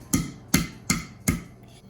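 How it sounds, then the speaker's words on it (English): A hand smacks homemade oobleck four times in a steady rhythm, each hit a sharp, close, wet slap with short pauses between. "And when you smack it, it's like a solid."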